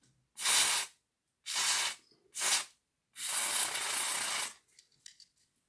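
Four short hissing bursts of spray cleaner on dismantled Hornby Class 14xx model locomotive parts, the last one longer, each sharp and close with quiet gaps between.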